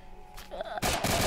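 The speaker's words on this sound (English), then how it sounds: "someone shooting at me" Gunfire in the blocky shooter game Blockade 3D, a quiet lead-in followed by a burst of rapid shots that comes in loud toward the end.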